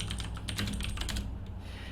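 Rapid keystrokes on a computer keyboard during an online Team Fortress tournament broadcast, clattering steadily and fairly close for the whole stretch over a constant low hum, with no one talking.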